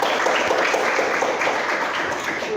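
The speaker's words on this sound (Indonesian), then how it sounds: "Berikan aplaus dulu kepada teman kita" Steady classroom applause for a student, many hands clapping together continuously and fairly loud, filling the whole stretch without pause.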